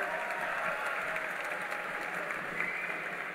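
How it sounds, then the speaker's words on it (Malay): Audience applause at a BN Youth Machinery launch ceremony speech, a steady wash of clapping that stays fairly even and moderately distant throughout, with no voices clearly over it. "Kita berikan tepukan penghargaan kepada mereka semua."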